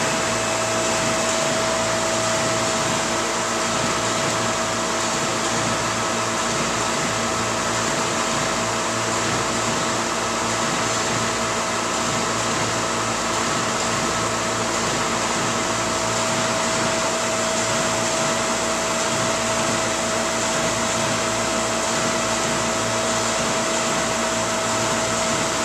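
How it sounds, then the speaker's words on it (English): A 5-ton air-cooled Koolant Koolers chiller at 460V runs its compressor and pump together, giving a constant loud mechanical drone with a steady tonal hum and fan-like rush, unbroken and with no voices. "Compressor running,"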